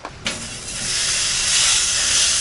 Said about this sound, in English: You hear that bacon sizzling?